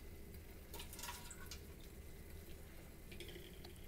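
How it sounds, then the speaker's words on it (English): Tap water pours into styrofoam cups with a soft, continuous trickle and splash, faint but steady, broken by a few light bumps and clinks. "I'm going to pour them directly into the styrofoam cups"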